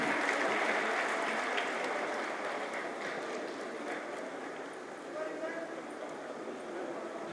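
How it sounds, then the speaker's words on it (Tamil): Audience at a community meeting gives a round of applause, a dense, moderately loud patter that is strongest at the start and eases slightly toward the end. "ஒரு பலத்த கைத்தட்டல் கொடுத்தீங்கன்னா ரொம்ப நல்லா இருக்கும்."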